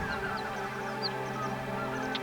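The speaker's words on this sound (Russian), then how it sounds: "утки, гуси появляются здесь в одночасье. Хор из множества голосов не смолкает круглые сутки." Geese and other tundra birds call across the Taimyr tundra, a faint chorus of distant honks and chirps over a steady background drone.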